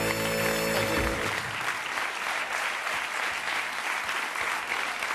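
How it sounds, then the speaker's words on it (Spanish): Studio audience applause, loud sustained clapping from a crowd that starts as a musical sting fades out, then continues evenly to the end. "Un aplauso para él"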